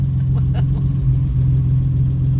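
An Alfa Romeo 75 Turbo engine drones steadily while the car drives, a loud, close, even hum with slight revving swells, heard from inside.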